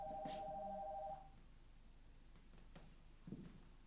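A telephone rings on stage during a theatre play: a single electronic ring of about a second, fairly faint, followed by quiet room ambience and a few small knocks.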